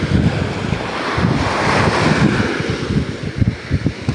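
Waves surge and wash onto a white-sand beach with a strong current, mixed with steady wind buffeting the microphone, loud and close throughout with rhythmic surf pulses toward the end.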